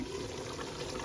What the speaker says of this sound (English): I just want to add a bit more water because I don't want it to dry out